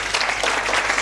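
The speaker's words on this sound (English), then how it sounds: "Let's give them a better clap." Audience applause at a public launch event, a full, steady burst of many hands clapping, fairly loud and even throughout.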